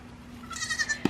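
Goats on a small farm herd bleat close by, a wavering cry followed by a short sharp call at the end, over a faint steady hum.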